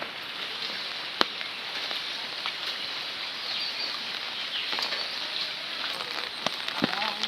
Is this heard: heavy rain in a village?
yes